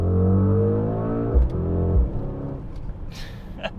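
A 2021 Mercedes-AMG GLE 63 S Coupe V8 holds a steady engine drone, then blips through quick downshifts with sharp revs and pulls away on an open road, close and fairly loud.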